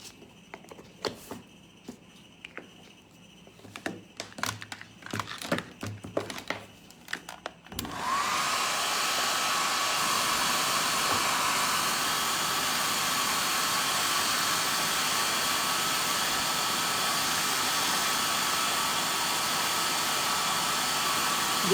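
Scattered close clicks and handling taps give way to a hair dryer switching on and blowing steadily and loudly for about fourteen seconds, drying decoupage art on a stone, with no speech.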